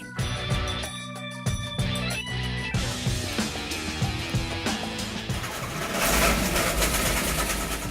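A Mustang project car engine runs at idle in a workshop, a steady mechanical hum with tonal whine and rattling layers, loud and continuous with a slight surge toward the end, no talk.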